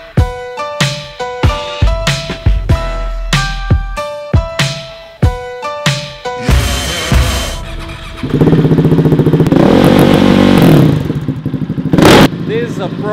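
A single-cylinder Krämer super mono race motorcycle engine is blipped in a series of sharp, loud revs with quick drops in between, then held at a higher sustained roar before a final burst, all up close.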